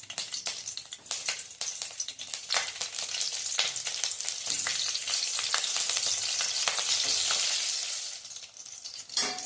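Three cut green chilies fry in about a tablespoon of hot ghee for a fasting-day varai pulao, giving a steady close sizzle with dense crackles and pops throughout, no voices.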